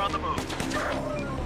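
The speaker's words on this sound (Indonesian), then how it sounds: "Kita tembak dari sini." Rapid bursts of gunfire in the zombie survival game Infection Free Zone, several quick shots in a dense cluster at close range, with game ambience beneath.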